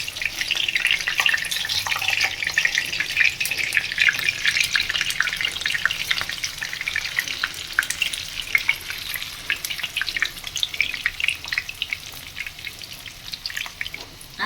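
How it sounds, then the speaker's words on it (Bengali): Banana flower fritters crackle and sizzle continuously in hot oil over high heat, a dense close frying hiss that stays steady throughout with no voices. "এবার একটা পিঠ মোটামুটি ভাজা হয়েছে, উল্টে দেব।"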